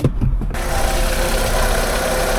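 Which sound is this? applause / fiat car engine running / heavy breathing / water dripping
fiat car engine running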